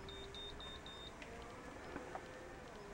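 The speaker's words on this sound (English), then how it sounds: "Beeping." A row of short, evenly spaced electronic beeps rises over a steady hum, repeating about eight times in quick succession before stopping.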